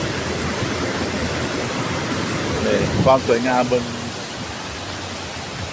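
Ton Nga Chang waterfall in Hat Yai, Songkhla, swollen with flash-flood water, makes a loud, constant, hissing rush filling the whole clip, while someone speaks briefly partway through.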